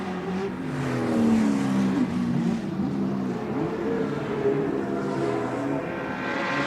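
1983 ATCC touring race cars sweep through a corner, engines loud and close, revs rising and falling as they brake and accelerate, with overlapping engine notes from more than one car.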